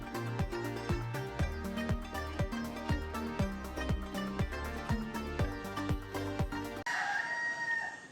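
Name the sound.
roosters and hens crowing and clucking in the morning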